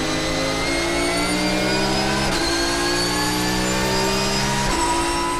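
Porsche number 43 and a rival race car battle near each other at Le Mans, engines droning loud and steady with pitch sweeping up and down through gear changes, two brief shifts breaking the continuous roar.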